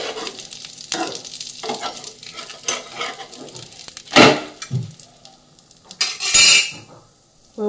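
Flatbread cooks on a griddle pan while a metal utensil scrapes and taps against it, with a soft sizzle underneath and a few louder clanks near the end.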